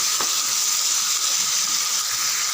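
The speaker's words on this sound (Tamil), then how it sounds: "இன்னும் ஒரு 3 நிமிஷம் நல்லா வதங்கட்டும்." Onion, tomato and garlic sauté in a pan for a garlic kara kuzhambu, giving a steady, even sizzling hiss that runs unbroken throughout with no talk over it.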